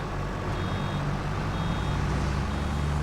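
Repeated warning beeps from a vehicle in the Farming Simulator 22 video game, evenly spaced tones ringing over a constant low engine drone, with no voices.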